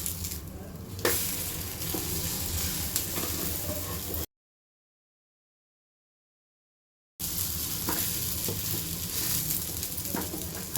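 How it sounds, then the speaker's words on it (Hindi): Suji (semolina) toast frying in oil in a pan gives a steady, close sizzle that drops out entirely for a few seconds midway, then returns just as loud and continuous, with no voices. "तो पलटने से पहले हल्का सा तेल लगा देते हैं और अपनी टोस्ट को पलट लेते हैं।"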